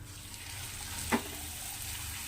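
Wheat flour puri frying in hot oil gives a steady, even sizzle throughout, with one brief sharper crackle near the middle and no voices.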